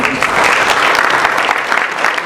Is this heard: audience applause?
yes